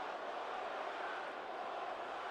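A wrestling video game arena crowd murmurs and roars in a steady, faint, distant wash of unhappy noise after an upset win, with no single voice standing out.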